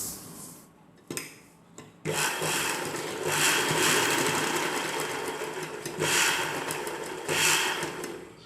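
Sewing machine stitching the neckline of an umbrella-cut dress top, a steady close whirring run with a brief start and stop near the beginning, then continuous stitching with small surges in speed.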